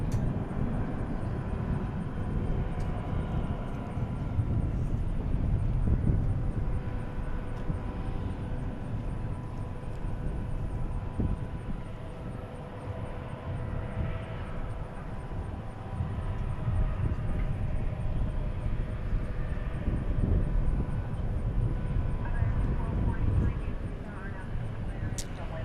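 A departing airliner at DFW International Airport roars steadily across the whole stretch, a broad continuous engine rumble that swells slightly mid-clip, with no talk over it.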